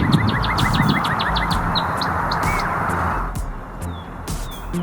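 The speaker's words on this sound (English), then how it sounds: "This cardinal is listening to other birds around him. He chips in at the end" Cardinal giving short sharp chip calls amid a dense chorus of other spring birds, rapid repeated chirps early on and sparse clear chips later against steady outdoor ambience.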